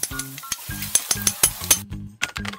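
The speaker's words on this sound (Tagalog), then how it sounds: "gigisahin muna natin yung bawang at sibuyas hanggang sa humalimuyak" Garlic and onion sauté in a pan with a close sizzle, while choppy, rhythmic scraping and clattering stirs repeat over it.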